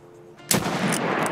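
A single loud pistol shot from Escape from Tarkov, a sharp close crack with a short reverberating tail and no talk over it.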